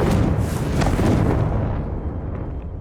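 A Confringo spell explosion from the Hogwarts Legacy video game: a loud, dense fiery boom with rumbling crackle, fading as its hiss tails off toward the end.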